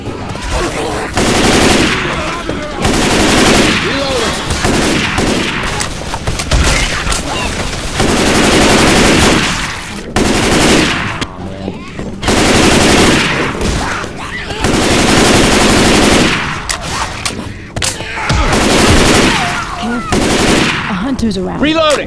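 Rapid automatic gunfire and repeated shots from Left 4 Dead 2 on the Black Mesa Undertow map, loud and near, in sustained bursts with brief pauses between them, while players talk over the shooting.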